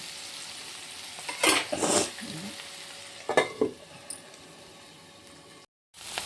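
Broad beans (chikkudukai) with crushed small onions frying in a pan: steady sizzle throughout, punctuated by several loud scraping stirs of a spatula against the pan, then a brief drop to silence near the end.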